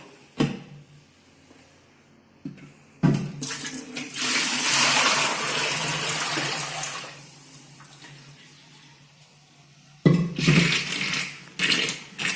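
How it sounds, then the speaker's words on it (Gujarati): Water sloshing inside a scrubbed clay pot and then poured out in a couple of gushing bursts with quieter pauses between, close by. "હવે આ રીતે સારી રીતે ઘસીને સાફ કરી લઈશું અને આ પાણીને આપણે કાઢી લઈશું"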